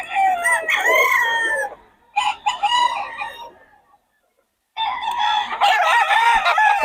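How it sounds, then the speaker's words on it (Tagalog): Roosters and chickens on a gamefowl farm crowing loudly and close, with several overlapping calls in two bursts, a brief silence, then more crowing. "Maraming manok to si Boss Russell."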